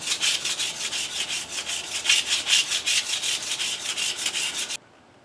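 A wooden walking stick is sanded by hand in quick back-and-forth strokes, a close, rhythmic scratchy rubbing that stops abruptly near the end.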